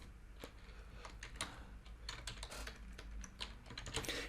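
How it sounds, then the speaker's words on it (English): Quiet, close keystrokes tap on a computer keyboard while text is entered in Adobe Photoshop, an irregular stream of light clicks with no voices. "I'm going to grab my type tool. I'm going to put in that C Taylor"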